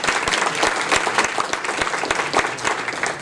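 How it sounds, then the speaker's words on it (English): Applause from an audience at an evening community meeting honouring three agencies and their presenters, a steady dense patter of many hands clapping, fairly loud and close, continuing for a few seconds. "Big round of applause for our 3 agencies and the presenters."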